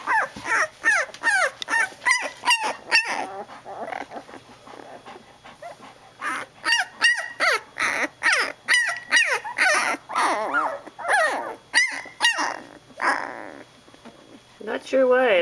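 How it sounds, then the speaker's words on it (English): An 11-day-old newborn puppy whimpers, yips and gives small barks in a steady stream of short cries, close by, with a person talking over much of it. "Not sure why I'm barking, but I'm barking."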